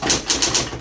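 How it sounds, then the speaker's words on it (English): Keys of a 1960s Smith Corona Electra 120 electric typewriter strike in a quick, uneven rhythm of about five sharp clacks over a steady motor hum, close and fairly loud. "let's go ahead and do our typing demo."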